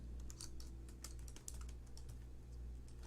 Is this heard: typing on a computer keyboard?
yes